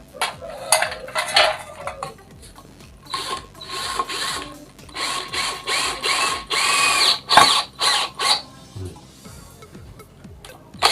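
An NRT PRO 20 power drill boring into light steel, close grinding whine in uneven bursts with clattering metallic rattles and pauses between.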